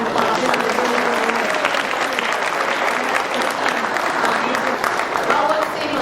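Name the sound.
applause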